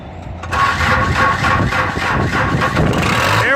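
Backhoe diesel engine cranking and catching after being sprayed with starting fluid, then settling into a steady loud clattering idle close by, with no talk over it.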